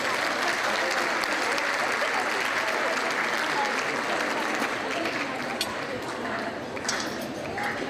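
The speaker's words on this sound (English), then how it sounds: "Let's give them a round of applause, please" Guests at a 2007 charity gala in Anaheim give sponsors a sustained round of applause, a dense, even clapping from a large room that thins slightly toward the end.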